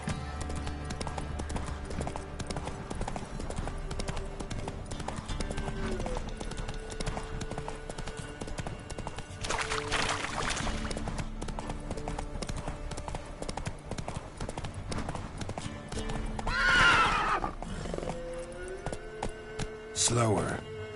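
Hooves clip-clop steadily as a horse gallops in The Witcher 3 video game, a continuous rhythmic patter under game music and ambience, with brief louder bursts near the middle and end that may be neighs.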